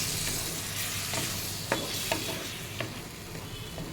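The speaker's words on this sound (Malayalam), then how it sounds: "അരച്ചു വെച്ചിരിക്കുന്ന നമ്മുടെ അരപ്പ് ഒഴിച്ച് ഇളക്കി ഒന്ന് തിളപ്പിക്കാം" Ground coconut paste being stirred into a pan for drumstick and potato theeyal curry, with a soft sizzle throughout and several sharp scraping clicks of the spoon against the pan at irregular intervals.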